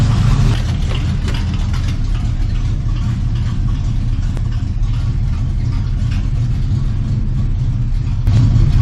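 An old truck with brake trouble and running problems idles loudly nearby, its engine rumbling steadily with small surges and no talking.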